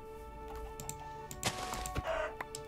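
Soft clucking from Minecraft chickens mixes with light clicks and taps over a steady tonal background hum; short bursts come and go.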